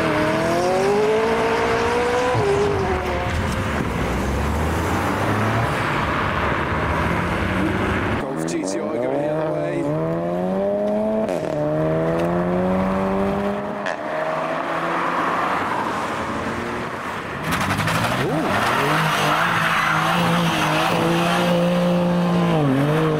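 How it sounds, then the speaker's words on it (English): A McLaren 600LT sports car engine revs and accelerates hard, pitch climbing through gear changes, then another loud pass of roaring modified cars and supercars with crowd noise behind. "And now quite the convoy, starting the 600LT."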